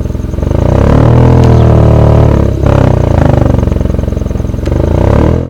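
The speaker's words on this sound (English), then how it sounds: "this twin exhaust chrome tips, and they sound really nice" Hyundai i20 N Line with twin chrome-tipped exhaust, tuned for the N Line variant, revving loudly up close in a rich, raspy burble that dips briefly before climbing again, with no talk.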